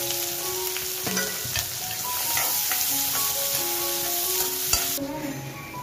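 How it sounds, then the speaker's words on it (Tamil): Two large, finely cut onions fry in hot spiced oil in a home kitchen. A steady, close sizzle runs throughout, broken by a few sharp clinks and scrapes of a spoon stirring the pan. "ரெண்டு பெரிய வெங்காயம் நைஸா கட் பண்ணி வச்சிருக்கேன்,"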